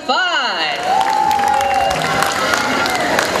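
Crowd at an expo stage show clapping and cheering for a band's bassist, loud and dense, with whoops and a rising shout at the start and voices mixed in throughout.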